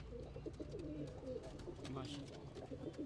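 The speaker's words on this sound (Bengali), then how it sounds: "এটা হলো কবুতরের পার্ক" Pigeons coo softly at a backyard pigeon loft, a low murmuring that runs steadily under a faint bed of background noise, with occasional voices in the distance.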